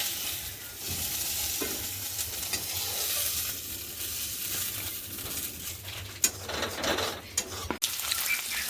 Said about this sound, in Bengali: মাছ ভাজার কড়াইতে গোটা জিরে আর কাঁচা লঙ্কা ফোড়ন দিয়ে তাতে কয়েক পিস আলু দিয়েছি।